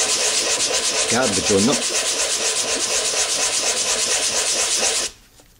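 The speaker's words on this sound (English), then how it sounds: "What I would do is maybe just give them a wee quick rub" Steady, close scraping of metal parts being rubbed smooth by hand before welding a FuelBan T-3 spark arrestor, continuing evenly for several seconds and then stopping abruptly. Someone speaks briefly partway through.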